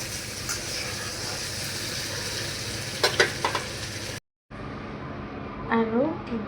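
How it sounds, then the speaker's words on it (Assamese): Paneer fries in a pan with a steady, close sizzle that carries on throughout, interrupted by a brief cut and a few light stirring scrapes. "আৰু এইফালে মই পনীৰ ভাজি আছোঁ।"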